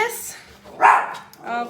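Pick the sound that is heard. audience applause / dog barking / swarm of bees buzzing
dog barking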